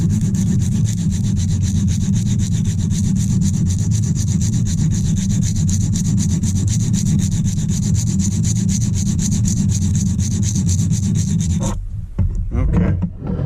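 Silicon carbide sharpening stone rubbed flat in steady back-and-forth strokes, a dense continuous gritty scraping that stays loud and close, then stops abruptly near the end with a few scattered knocks.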